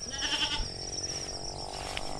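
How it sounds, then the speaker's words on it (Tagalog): Goats bleat on a farm during morning feeding, a couple of nasal calls rising close by over steady outdoor background noise. "sinugan na natin yung mga kambing"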